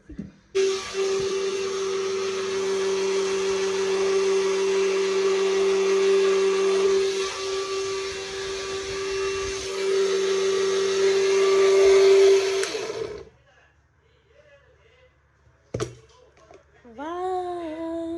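A kitchen blender whirs loudly and steadily while making papaya juice, a sustained motor drone lasting about twelve seconds before cutting off abruptly, followed by a short quiet stretch and a few brief voice sounds.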